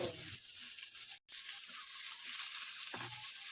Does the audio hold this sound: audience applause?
no